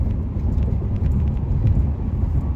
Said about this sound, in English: I'm driving to work and it's quite a distance